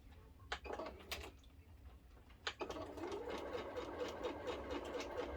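Sewing machine stitching a Galaxy X quilt block straight down a marked line, a few short starts followed by a steady, fairly faint run of stitching.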